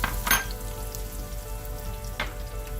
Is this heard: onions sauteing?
yes